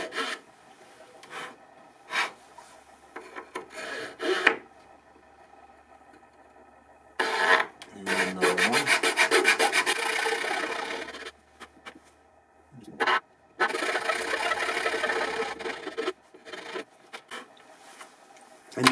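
A hand saw cutting into a wooden soundboard brace in a workshop, with close, steady rasping strokes in two long sawing bursts between shorter scrapes and pauses.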